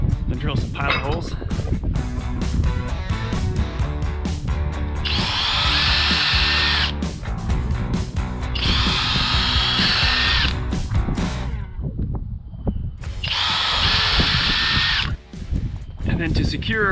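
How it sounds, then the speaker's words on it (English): A power drill bores pilot holes for a handrail bracket mounted on a wall, in three steady high-pitched whirring bursts of a few seconds each, close and loud, with brief pauses and workshop noise between them. "Drill some pilot holes."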